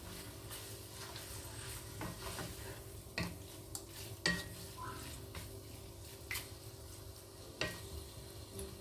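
Beef mince stirred and sizzling in a pan with bay leaves for a pasta bake, a steady fry hiss under repeated scraping and clinking strokes of a utensil against the pan, close up with no talking.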